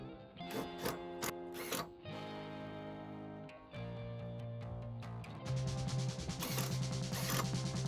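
Power driver spinning 1.5 inch panhead screws through coffee table legs into a redwood burl tabletop, a steady motor whir broken by clicking, ratcheting bursts and brief pauses, close and fairly loud, no talking.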